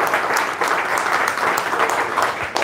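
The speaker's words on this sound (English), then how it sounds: "So a big round of applause before he goes." An audience gives a sustained round of applause at a talk, steady dense clapping filling the room throughout with no pauses.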